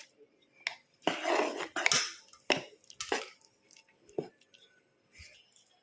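Millet paniyaram batter mixed with sautéed onion, green chilli, curry leaves and chana dal in a bowl, the spoon scraping and squelching in several separate wet strokes, close and moderately loud with pauses between them.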